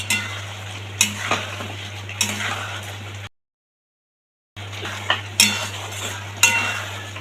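Pre-fried prawns stirred in a pan while cooking with ginger and a little cumin, a close sizzle broken by regular scrapes and clinks of a utensil, cut by a short silent gap before the frying and stirring resume.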